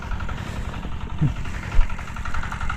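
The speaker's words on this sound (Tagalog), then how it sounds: "Pandar na natin yung makina." A small engine idles with a steady low chugging vibration, a brief knock partway through, and no talking.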